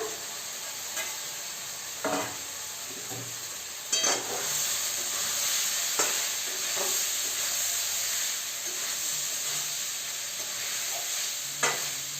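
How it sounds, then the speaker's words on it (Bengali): Boiled pasta tossed with fried vegetables in a pan gives a steady close sizzle with a steamy hiss, broken by occasional scraping stirs of a spoon, no talk. "এবার আমি পাস্তাগুলো মিশিয়ে দিচ্ছি সিদ্ধ করা পাস্তা"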